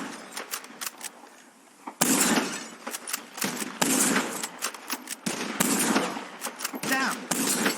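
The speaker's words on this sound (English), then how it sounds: "Whoever shoots more of these bottles wins." Rapid gunshots at bottles in Red Dead Redemption 2, loud repeated cracks in bursts with short pauses, after a quieter opening stretch.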